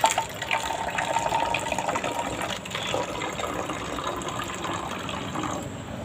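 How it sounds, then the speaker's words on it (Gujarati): Water pours steadily into a plastic bottle, a continuous trickling fill with a faint gurgle, no voices. "આ વચ્ચેની જે બોટલ હોય છે એની અંદર થોડું આપણે પાણી ઉમેરી લેવાનું આ રીતે"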